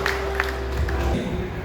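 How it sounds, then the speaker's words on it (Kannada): An audience claps to welcome a guest at a Lions club event, a short burst of steady, even applause that fills the hall throughout. "ತಾವೆಲ್ಲರೂ ಜೋರಾಗಿ ಕೈ ಚಪ್ಪಾಳೆಯೊಂದಿಗೆ ಅವರನ್ನು ಸ್ವಾಗತಿಸೋಣ."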